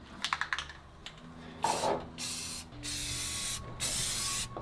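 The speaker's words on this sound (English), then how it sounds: "what you want to do with the spray paint is just kind of press it and move it" A few quick clicks, then a spray paint can hisses in several sustained bursts, each a second or so long, with brief gaps between, inside a garage while painting a 1966 Buick Riviera.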